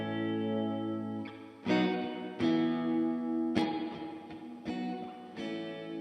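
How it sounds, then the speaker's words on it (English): Electric guitar chords from a Fender Hardtail Stratocaster ring out through a lush Electro-Harmonix Holier Grail reverb pedal, each strum decaying into a wide wash of sound, played alone at a steady relaxed pace. "reverb pedal. Classic."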